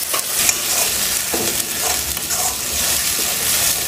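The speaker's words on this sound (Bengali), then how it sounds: "রসুনটা ভাজা ভাজা হয়ে গেছে, দিয়ে দেবো এর মধ্যে টমেটো আর পেঁয়াজ বেটে রাখা পেস্ট।" Tomato and onion paste frying with fried garlic in a pan, a loud close sizzle with a spatula stirring and scraping in uneven strokes, no talk.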